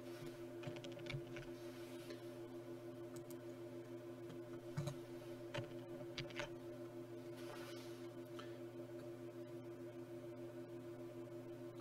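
Light tapping on a computer keyboard, scattered keystrokes in irregular bursts over a steady background hum, fairly faint and without talk.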